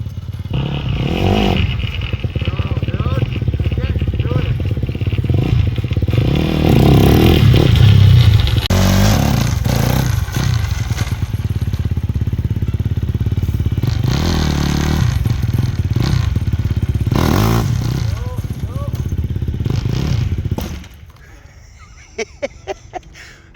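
A motorcycle fitted with wheelie training wheels revs and rides, a loud sustained engine roar with rising and falling throttle and some clatter, then drops off near the end, with people talking over it.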